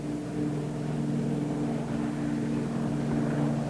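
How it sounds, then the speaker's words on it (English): A Convair 240 twin-propeller airliner drones steadily through its takeoff run and climb, a continuous, moderately loud engine and propeller hum without voices. "After a short run, the plane takes off easily"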